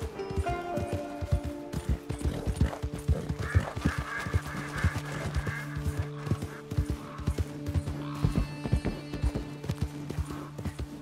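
Rapid rhythmic clopping of galloping horse hooves in Red Dead Redemption 2 runs steadily throughout, with a tonal musical drone layered beneath and a brief whinny-like cry partway through.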